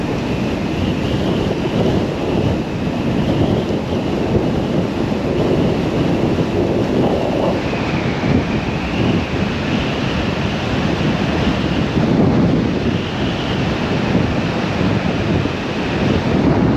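Steady roaring wind noise buffets the microphone while riding a 3000W Engtian TDPX electric motorcycle at night at about 44, loud and continuous throughout with no motor sound standing out.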